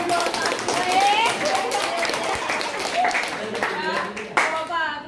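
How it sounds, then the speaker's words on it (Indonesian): A school chemistry class claps together, a brief scattered patter of many hands, with children's voices and a teacher talking over it. "Tepuk tangan buat yang buat."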